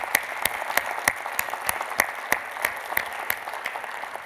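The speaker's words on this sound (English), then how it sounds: "So a round of applause for our sponsors." Applause comes as steady, evenly spaced claps from a modest audience, at moderate volume.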